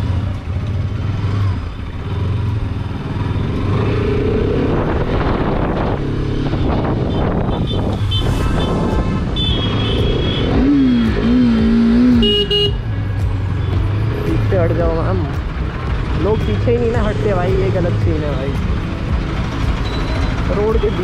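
A Bajaj Pulsar motorcycle on a road test ride gives a steady engine drone under heavy wind rush, with a few horn toots and people talking throughout.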